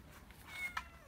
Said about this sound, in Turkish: Bu da bizim bahçenin kedisi.